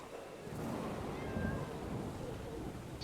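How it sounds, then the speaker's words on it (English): A cat meows softly during a tabletop fantasy role-playing session, a single drawn-out call heard at low level against a background of room noise and murmur. "It's a cat, guys."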